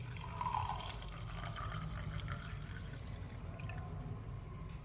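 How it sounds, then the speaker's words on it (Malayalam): Strained juice poured into a honey mixture in a home kitchen, a steady soft trickle of liquid heard close and faint throughout, with no talk. "അതിൻ്റെ കൂടെ നമ്മൾ അരിച്ചെടുത്ത ജ്യൂസും കൂടെ ചേർക്കാം."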